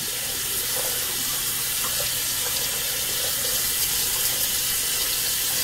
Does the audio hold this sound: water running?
yes